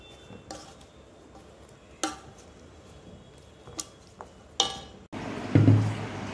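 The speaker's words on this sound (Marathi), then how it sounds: "सर्व आता आपण याच्यात मिक्स करून घेणार आहोत" Mango pickle being mixed with garlic in a bowl, with soft scraping and a few sharp clinks of a spoon against the bowl, then a louder, denser stirring rustle at the end.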